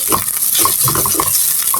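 Onions with red chillies and garlic frying in oil in a frying pan give a steady sizzle broken by uneven bursts of stirring and scraping, close and fairly loud.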